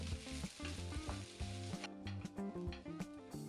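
Rice stir-fried with beef, fish sauce and sugar sizzles hard in a hot pan, a loud steady crackle with a busy low rhythmic pattern from tossing and stirring, and no voices.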